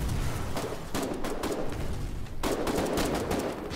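Rapid bursts of gunfire in a shooter video game, dense and loud, with a brief pause before another volley of rattling shots.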